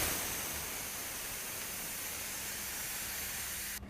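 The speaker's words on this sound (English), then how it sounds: "I'm depressurizing the cooker." Steady loud hiss of steam venting from a pressure cooker as it depressurizes, a continuous broadband rush that holds for several seconds and then cuts off abruptly.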